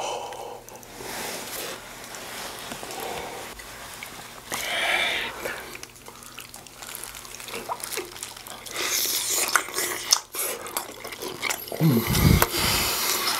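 Close, wet biting and chewing of pork trotters (jokbal) in a mukbang, with smacking, sticky mouth sounds and soft clicks, faint at times and louder near the end.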